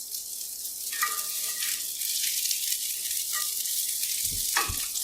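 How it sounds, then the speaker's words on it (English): Cremini and baby portobello mushrooms sizzle in a hot pan, a steady bright hiss with a few brief spatters and low knocks near the end, without talk. "We're going to add our mushrooms first."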